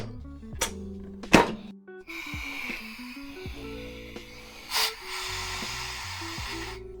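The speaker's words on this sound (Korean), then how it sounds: "탄산을 쏩니다." Whisky highball being carbonated with CO2 gas in a home soda maker: a thunk, a short burst of gas, then a broad steady hiss, with a second sharp burst near the end.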